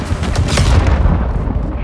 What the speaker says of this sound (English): Breaker, I have missiles incoming.